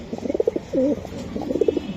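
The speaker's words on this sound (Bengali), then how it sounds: "এই যে কবুতর জোড়া" A pair of racing pigeons coo close by in repeated low, throaty calls with a short rolling warble in the middle, set against a soft background hum.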